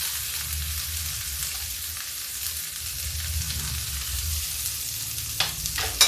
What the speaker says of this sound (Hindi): अब डालेंगे इसमें थोड़ा सा लहसुन और थोड़ा सा प्याज।